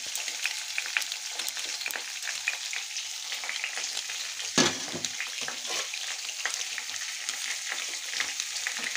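Fried tomato and onion birista dropped into a frying pan, giving a soft but steady crackling sizzle with a brief burst of louder frying partway through, no voices.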